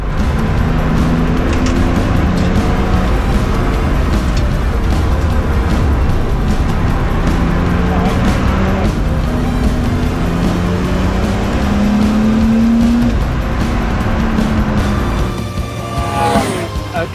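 Cars lapping the Brands Hatch circuit on a track day, many of them road-legal, roar continuously with engines rising and falling in pitch as they pass, loud and steady throughout with occasional voices underneath.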